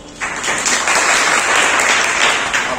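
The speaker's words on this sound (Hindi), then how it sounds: "सब इनके लिए तालियां।" Applause from students and staff at a school event in a Madhya Pradesh higher secondary school, honouring a student after a quiz answer; steady, dense clapping that rises quickly and holds at full strength for a few seconds, with no talk over it.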